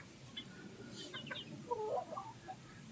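Oriental hatch gamefowl, a cross of asil, Boston Roundhead and yellow-legged hatch, makes a few short clucks and murmurs close by over a steady background hiss, with no talking.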